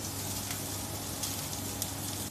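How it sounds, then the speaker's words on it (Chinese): Lobster frying on a hot iron griddle gives off a steady, dense sizzle with faint crackles. It runs unbroken and fairly soft throughout, and nobody speaks. "铁板上煎制， 听着龙虾滋滋作响"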